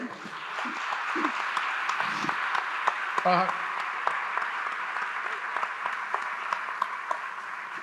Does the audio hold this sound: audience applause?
yes